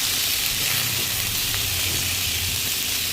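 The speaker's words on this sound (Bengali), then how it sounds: "লঙ্কার গুঁড়ো, হলুদ গুঁড়ো, জিরে গুঁড়ো, নুন দিয়ে কড়াইতে দিয়ে আরও কিছুক্ষণ কষাবো" Chili, turmeric and cumin powders with salt sizzle and hiss steadily in a hot pan, a constant crackling fry with a faint low hum beneath.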